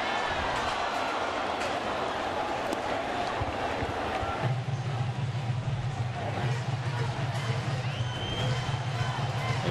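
A small but vocal crowd left in a New York baseball stadium late at night, a low murmur and scattered cheering with faint chanting, heard under a broadcaster's talk.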